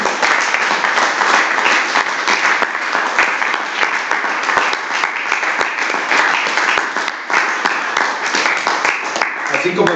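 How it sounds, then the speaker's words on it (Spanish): Church congregation clapping hands loudly and continuously in rhythm, a full-room wash of applause with worship voices mixed underneath. "Dale palmas al Señor con todo su corazón"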